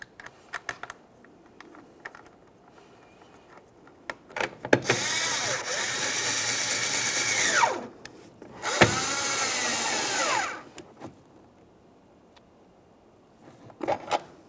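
Two bursts of a power driver tightening 8mm mounting nuts on a 2009-2014 Nissan Maxima tail light, each a few seconds of whirring, separated by quiet handling clicks and taps.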